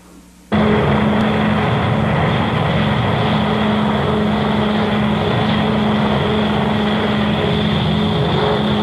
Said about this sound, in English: They have spotted an enemy aircraft, one B-29 heading west.